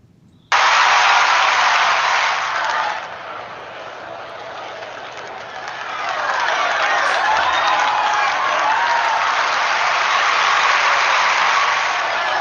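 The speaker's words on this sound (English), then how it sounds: "this is the cheering one" Crowd cheering from the rhythm game No Straight Roads, a dense roar that starts abruptly at full strength, dips slightly after a few seconds, then swells back and holds steady to the end.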